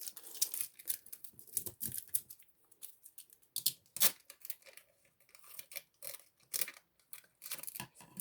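Scissors cutting material for string art, a run of close, crisp snips and slicing strokes in uneven bursts with short pauses between, no talking.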